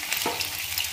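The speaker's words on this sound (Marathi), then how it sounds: "मस्त शालो फ्राय झालेले आहे." Pieces shallow fry in oil in a pan, giving a close, steady crackling sizzle with a brief scrape as they are moved.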